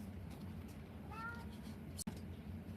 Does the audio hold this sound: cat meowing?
yes